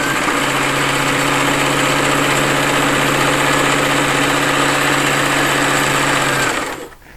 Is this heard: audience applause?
no